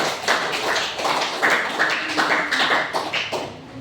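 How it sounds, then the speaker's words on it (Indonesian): A classroom group claps in a short burst of applause, several pairs of hands patting unevenly and fairly close by. "Coba kita berikan aplaus untuk kelompok 1."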